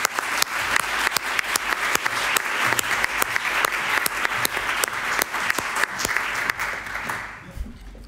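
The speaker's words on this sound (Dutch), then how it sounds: "Dus ik wil graag een warm applaus." A studio audience on a Dutch talk show gives the guests dense, loud and steady applause with crisp individual claps for about seven seconds. It fades out at the end.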